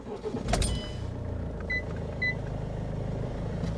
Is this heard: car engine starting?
yes